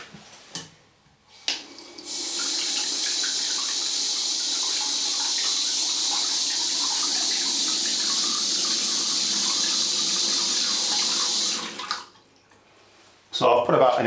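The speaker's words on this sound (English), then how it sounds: "We're now going to open the stop tap and we're just going to allow a little bit of water into the cistern" Water gushes steadily into a toilet cistern through an opened stop tap, a loud continuous rush lasting about ten seconds before cutting off, with brief handling noises on either side.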